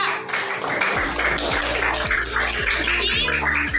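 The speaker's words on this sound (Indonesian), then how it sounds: "Beri tepuk tangan dulu untuk kelompok 3" Students in a classroom giving a group a round of applause: dense, continuous clapping from many hands, loud and close, with faint voices mixed in.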